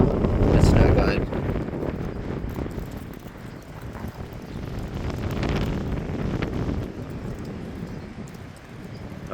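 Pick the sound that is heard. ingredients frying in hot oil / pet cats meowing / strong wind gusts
strong wind gusts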